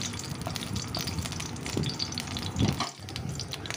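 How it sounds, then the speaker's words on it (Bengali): Steady sizzling of whole spices and a whole dried red chilli frying in hot oil over low heat, a continuous crackling hiss with occasional stirring scrapes, close up. "ফোড়নটাকে একটু হালকা আঁচে ভেজে নিচ্ছি।"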